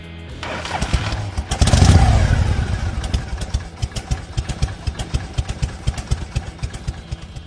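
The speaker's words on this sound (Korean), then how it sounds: "에볼루션 엔진에서 느껴지는 할리 데이비슨만의 독특한 사운드와 필링을 즐기기 위해" A Harley-Davidson Sportster motorcycle with an Evolution engine starts with a loud revving burst, then settles into a steady, lumpy idle with an uneven, loping rhythm of pulses.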